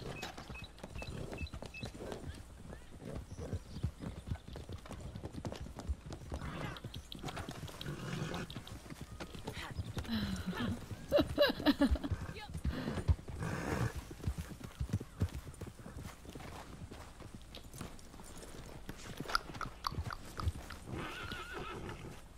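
Horse hooves clip-clop and snort in Red Dead Redemption 2, a steady galloping rhythm with whinnies and snorts rising in the middle, moderately quiet under a faint game backdrop with little talk.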